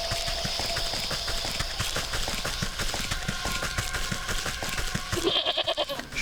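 A goat bleats in the video game Wytchwood while scissors snip its matted hair, with rapid clicky snipping under a steady bed of game ambience and a sharper bleat near the end.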